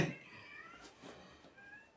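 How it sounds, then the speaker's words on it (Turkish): Cats meowing indoors at a home, a few short drawn-out calls spread across two seconds, fairly close and moderately loud, with faint background noise and no talking. "Duyuyorsunuz kedileri."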